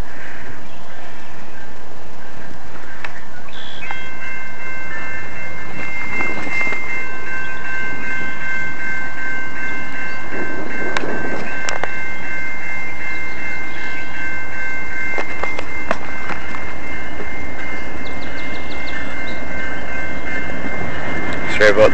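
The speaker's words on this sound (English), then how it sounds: "you can watch this train come through" A train rolls through nearby with a steady rumble and sustained horn or whistle tones throughout, with occasional louder clatter; loud and continuous.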